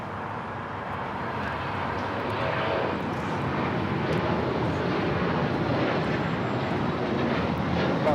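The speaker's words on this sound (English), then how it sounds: "This is Alaska Airlines 1360 taking off to Los Cabos on the 737-800" Alaska Airlines Boeing 737-800 taking off from Los Angeles airport, a broad, continuous engine rumble that swells a little after the first seconds and then holds steady and fairly loud, with no voices over it.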